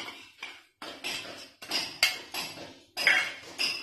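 A spoon clinks and scrapes against a bowl in a series of about seven distinct, evenly spaced strokes while sour yogurt is added to spiced fish for Katla vapa, close and clear.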